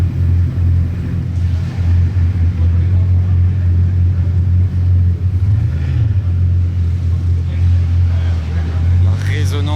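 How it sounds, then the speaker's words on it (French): A Bugatti Chiron W16 starts up and resonates among hypercars gathered in Monaco, a loud, deep sustained rumble with slight swells, voices talking faintly over it. "Une autre Chiron qui démarre juste derrière, c'est fait. Ça résonne fort."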